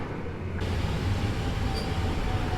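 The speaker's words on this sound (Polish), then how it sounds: "Tymczasem podstawił się skład do Mińska." Suburban EMU train pulling into Warszawa Zachodnia station, a steady low rumble of wheels and motors filling the platform, with a brief faint high squeal partway through and no talking.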